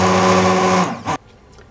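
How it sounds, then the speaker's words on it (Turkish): A blender purées cooked lentils and vegetables for a soup, whirring loud and steady up close for almost a second and then cutting off in a short final burst. "Mercimeklerimiz, sebzelerimiz yumuşadıktan sonra blenderdan geçiriyoruz."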